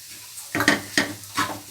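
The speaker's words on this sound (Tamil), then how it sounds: "இந்த மாதிரி நல்லா மிக்ஸ் பண்ணி எடுத்துக்கோங்க" Rava snack stuffing is mixed in a bowl, giving three quick, close scraping and clattering strokes against a quiet background.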